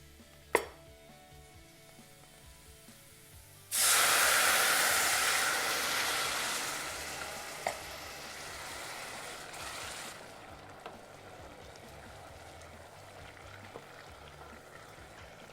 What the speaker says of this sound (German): Wenn das Ganze richtig heiß geworden ist, löschen wir das Ganze mit unserem Weißwein ab.